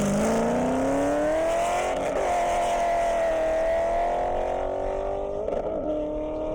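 A 2023 Corvette races down an airstrip, its engine a loud, steady roar that climbs gradually in pitch as it accelerates, with a brief wobble near the end and no talk.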